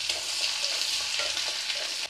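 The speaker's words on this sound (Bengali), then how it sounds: "এটাকে একটু ভেজে নেব" Chopped small onion frying with cumin seeds in a pan, a steady close, loud sizzle with occasional stirring scrapes, ending with a slight drop in intensity.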